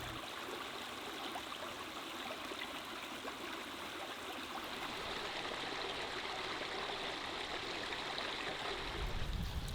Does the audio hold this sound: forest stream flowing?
yes